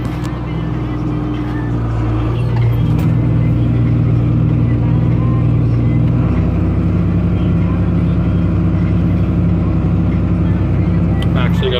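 A John Deere tractor runs a manure spreader flinging chicken manure, its engine a steady, loud, rumbling drone that shifts slightly lower partway through.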